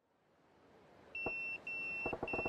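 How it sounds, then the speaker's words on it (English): Pager in the video game Yakuza 0 beeping: a single steady electronic tone, then a short break and a second tone over a burst of rapid clicks, loud and alone. "It's my pager."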